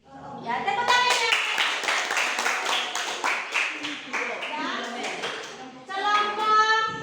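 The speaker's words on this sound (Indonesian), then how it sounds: "Ya, tepuk tangannya." Children in a classroom clap their hands together after a prize is handed to the winning group, a lively patter of many small hands with kids' voices chattering through it, fading briefly before a final burst.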